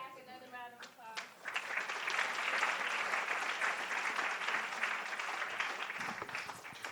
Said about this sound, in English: Let's give Stack another round of applause